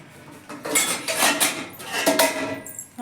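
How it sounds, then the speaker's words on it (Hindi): Steel dishes, pots and utensils are stacked away in a home kitchen, giving a run of loud, close clanks and clinks that come in bursts over about three seconds. "अब जा रहे हैं बर्तन लगाने।"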